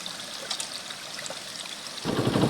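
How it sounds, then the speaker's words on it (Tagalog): Water gushes steadily from a leaking Maynilad water main pipe on a street, a continuous rushing hiss that grows louder and heavier near the end. "napakalakas po ng tagas ng tubig dito"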